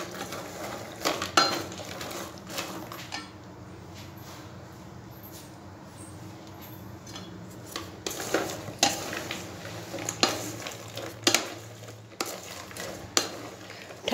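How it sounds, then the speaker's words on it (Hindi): Shakarpare being tossed into sugar syrup in a pan, with scraping, clinking spoon-on-pan strokes and a sticky rustle in irregular bursts, close up, no talk. "हमारे जो शक्करपारे हैं उसको हम मिलाएंगे इस चाशनी में, और इसको चाशनी में अच्छे से मिक्स कर लें।"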